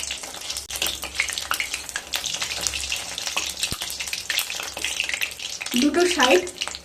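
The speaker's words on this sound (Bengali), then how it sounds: "দুটো সাইড ব্রাউন কালার করে ভেজে নিতে হবে" Flipped fritters of battered sesbania (bok) flowers frying in hot oil, a dense continuous close sizzle with scattered pops and a brief utensil clink, swelling louder near the end.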